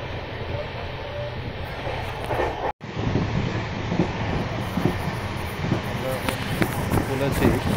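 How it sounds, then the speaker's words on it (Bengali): Rumble and rattle of the Lalkuan Express, a weekly special passenger train running from Durgapur through Raniganj and Asansol, heard from inside a coach: a steady loud rolling roar with a brief dropout, wind noise over the microphone. "আর এটা এখন রানীগঞ্জ দিয়ে আসানসোল দিয়ে এখন ট্রেনটা যাচ্ছে"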